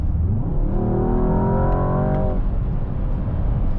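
A 2025 Mercedes-AMG S63 E Performance hybrid sedan on kick-down gives a loud, rising engine roar heard from inside the cabin as it accelerates hard, then levels off into a steady drone.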